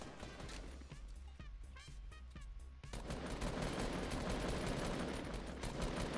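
Rapid automatic gunfire in Fortnite as shots hit walls, opening with scattered sharp shots and then bursting into a continuous loud spray of rounds for the last few seconds.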